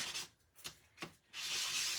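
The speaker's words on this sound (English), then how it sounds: "I've just got a sanding block that I use for my nails" A sanding block rasps against fingernails in a few quick rubbing strokes, then settles into a steady continuous circular scrubbing, close up with no talking.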